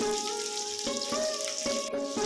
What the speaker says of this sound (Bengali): সামান্য একটু ভাজা ভাজা করবো, যাতে বেবি অনিয়নগুলো এরকম একটু গোটা গোটাই থাকে